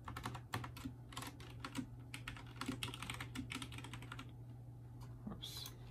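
Computer keyboard typing during an Unreal Engine 4 virtual reality tutorial: quiet, irregular key clicks in quick bursts over a steady low hum, with no speech.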